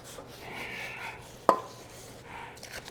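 Sandpaper rubbing rust off a wobbly equipment wheel with a bearing, close raspy strokes in short bursts, with one sharp knock near the middle.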